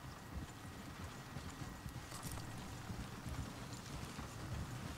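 Horse hooves clip-clop steadily in Red Dead Redemption 2, a soft continuous patter set against a hiss of rain-like background noise, with no speech over it.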